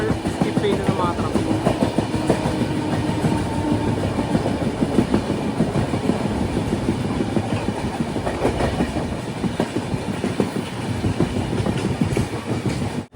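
The Konark Express climbs the ghat from Mumbai to Pune in the monsoon. A loud, dense, continuous rumble carries a steady clickety-clack of wheels over rail joints throughout.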